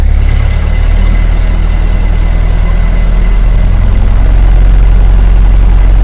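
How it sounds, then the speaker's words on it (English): A Ford Model A engine idles steadily, a low continuous rumble with an even mechanical throb, close and fairly loud throughout with no talking. "slow the engine down with the hand throttle."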